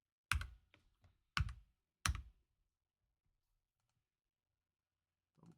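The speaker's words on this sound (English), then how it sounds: "Double click" Mouse clicks on a computer in spreadsheet software, three sharp clicks close together, each with a short rattling tail, then near silence and a faint click at the end.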